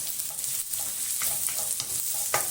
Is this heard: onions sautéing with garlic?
yes